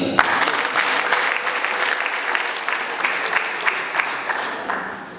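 Applause at a Rwandan wedding ceremony, steady and dense from start to finish at moderate loudness, with many hands clapping together and no voices over it.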